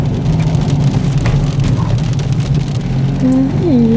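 Steady rain falling and pattering on surfaces near the Sirindhorn Dam camping area, a loud continuous hiss with a low engine-like hum beneath and a brief tonal chirp near the end.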